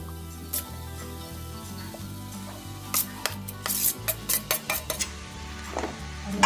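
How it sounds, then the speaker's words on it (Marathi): Mashed potatoes roasting and being stirred with a spoon in a kadhai for batata vada: a faint sizzle underneath, then a run of quick, close metallic scrapes and clinks against the pan, no talking. "आता यांना आपण छान असं व्यवस्थित भाजून घेऊ थोडा वेळ आणि मिक्स करून घेऊ आणि चमच्याने परतवत राहायचं आहे, नाहीतर कढाईला खाली चिपकेल"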